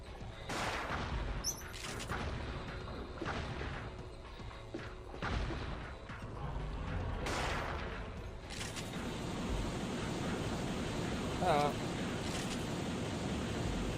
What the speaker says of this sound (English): Let's try the shotgun on this guy.